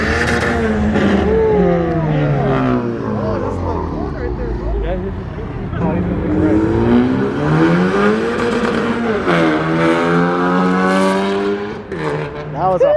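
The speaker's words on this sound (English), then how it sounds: "That was a new Honda Accord. It's fucking turbo." A new turbocharged Honda Accord revs and passes at a car meet, its engine note swelling and falling in repeated sweeps while people talk loudly over it.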